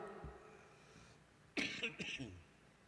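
A single short, close-up cough bursts out after a quiet stretch, followed by a brief second rasp.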